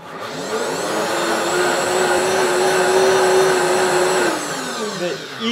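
A blender whirring through pani puri batter mixed with water, a loud, close, steady motor roar whose pitch rises slightly as it spins up, then drops off near the end.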